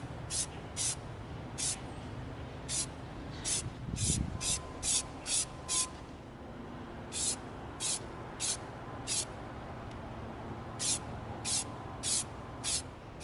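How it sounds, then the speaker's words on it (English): Short bursts of gloss apple red spray paint from an aerosol can, misting EVA foam raygun coils at a spray stand, come in clusters of quick hisses with brief gaps, fairly close and clear over a low background rumble. "We're going to begin hitting some of these coils with our Gloss Apple Red."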